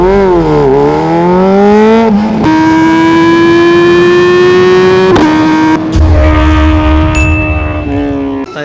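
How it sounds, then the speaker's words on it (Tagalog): Kawasaki ZX4RR motorcycle with a full-system aftermarket exhaust revving hard and loud, rising to a high sustained wail, dropping, then climbing again in several long pulls with a rough, buzzy edge. "Sound check natin, full system sa ZX4RR."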